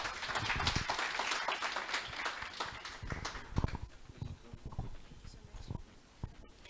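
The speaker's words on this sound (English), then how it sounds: "Let's give him a round of applause." Scattered, uneven clapping from a small audience, loud early and thinning into sparse individual claps toward the end.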